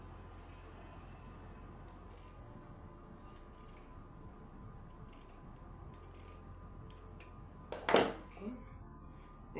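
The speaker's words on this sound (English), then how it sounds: "And I will do the same also on the side with my zigzag scissors." Quiet, repeated snips of zigzag (pinking) scissors cutting through fabric, short crisp bursts spaced out with small clicks and rustles in a quiet room.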